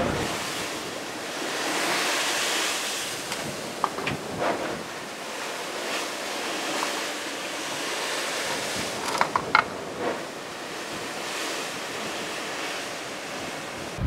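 Steady wash of ocean waves and wind around a ship lying still at sea south of Bermuda, a continuous broadband roar with a few brief knocks and creaks near the middle and end, no voices.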